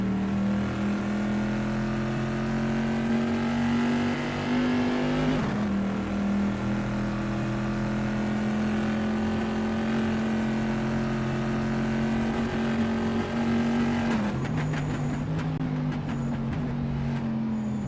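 A pre-1973 Bizzarini race car at the Imola circuit holds a steady, loud engine drone through a long sustained pull, with two brief gear-change dips and the pitch easing off near the end.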